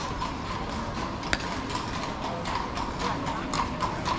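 Fiaker carriage horses clip-clop on the pavement at Stephansplatz in old Vienna, steady hoofbeats at moderate distance under a constant city crowd murmur, with one sharp clack standing out.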